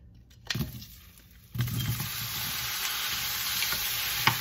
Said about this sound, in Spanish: Y aquí vamos a saltear los vegetales.